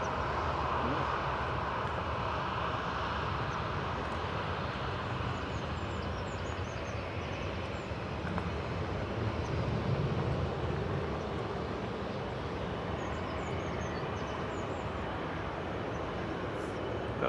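A jet airliner at Manchester Airport rumbles steadily in the distance, a broad continuous roar holding at a moderate level throughout with no voices.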